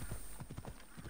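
Horse hooves gallop in Assassin's Creed Odyssey, a rapid, regular clip-clop that repeats about every fifth of a second, steady and close, with no voices over it.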